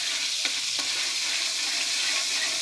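Margarine melts in a hot pan with a steady, bright sizzle and a couple of soft scraping stirs, close and continuous for a few seconds with no voices.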